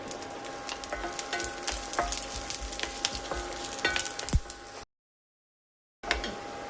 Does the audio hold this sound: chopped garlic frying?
yes